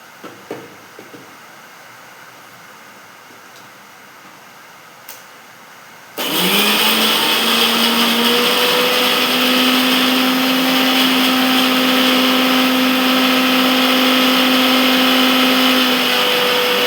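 After several seconds of near silence, a mixer grinder starts up grinding soaked dal for parippu vada, a loud, close, steady high-pitched whine that holds without a break to the end.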